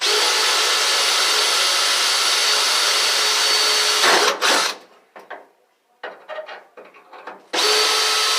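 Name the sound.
Makita cordless drill drilling pilot holes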